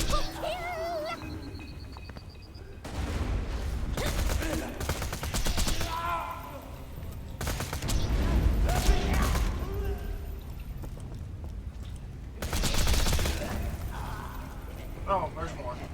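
Gunfire from the video game Borderlands 2, with bursts of rapid shots and loud blasts separated by quieter gaps over game noise, sometimes under a player talking.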